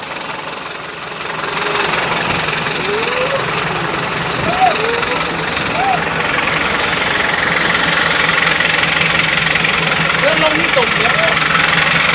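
Turbocharged dump truck engine running with a rough, knocking diesel rumble that swells into a louder, steady revving, heavy and close throughout.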